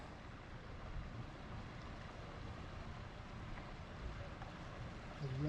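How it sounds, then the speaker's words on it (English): A fishing boat's motor rumbles steadily as it comes in across open water at Elfin Cove, Alaska, with wind buffeting the microphone and a low engine drone that swells slightly near the end. "Fishing boat coming in."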